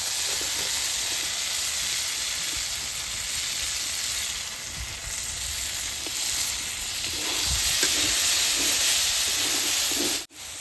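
Food sautéed with jaggery and turmeric in a pan gives a loud, steady, close sizzling hiss, with occasional soft stirring knocks, until an abrupt cut near the end; nobody speaks.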